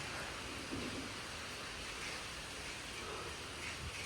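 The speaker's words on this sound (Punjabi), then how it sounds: "ਹੁਣ ਆਪਣੇ ਵੀ ਮੀਂਹ ਆ ਗਿਆ ਬਈ ਨਾਲ ਨਾਲ ਹਨੇਰੀ ਨਾਲ ਨਾਲ ਮੀਂਹ" A steady hiss of heavy rain falls continuously, with a low, soft rumble of thunder underneath.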